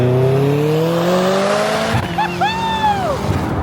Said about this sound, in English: I'll actually overlay a video of my car shooting flames.